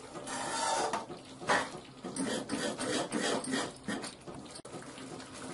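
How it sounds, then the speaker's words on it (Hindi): Semolina for rava laddoo is stirred in a pan on the stove: a steady scraping and rubbing of a spoon against the pan in uneven strokes, fairly soft and close, with no voices. "अब इसे हम लगातार चलाते हुए 2 मिनट तक फिर से पकाएंगे जिससे कि सूजी अच्छे से पक जाए।"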